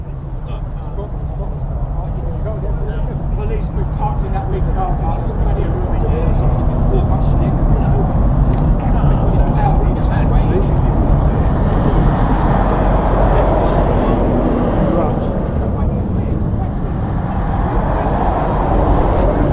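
Mirage jet aircraft at RAF Waddington during a Cobra Warrior exercise, powering up and taxiing: a steady, loud broadband engine roar that holds throughout, with voices talking over it.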